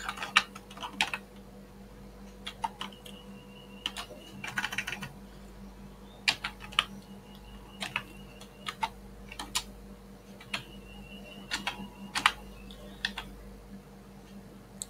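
Typing on a computer keyboard while filling in a Google Form, irregular bursts of quiet key clicks with short pauses between words, against a low steady hum.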